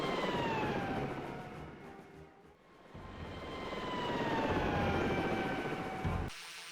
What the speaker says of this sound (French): Bon, bien, atterrissage au milieu de nulle part